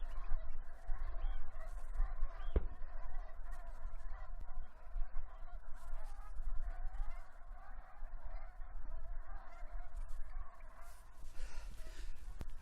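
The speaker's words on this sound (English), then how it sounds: "Well, they're Brant geese." Brant geese on a river call in a continuous low chorus of throaty, murmuring honks, with a few louder calls standing out over the steady flock chatter and faint background noise.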